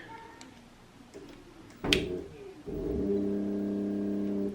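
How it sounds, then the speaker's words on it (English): An electric skateboard motor driving a home-built car project starts up after a few clicks and a sharp knock, then settles into a steady, close, tonal electric hum. "And the motor is rotating."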